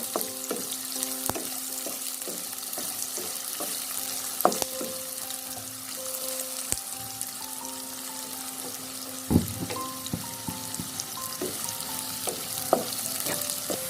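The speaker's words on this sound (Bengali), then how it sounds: "পেঁয়াজগুলো হালকা করে ভেজে নেব।" Onions and chillies frying in leftover oil, giving a continuous close sizzle with occasional light clinks and scrapes of stirring, alone without any voices.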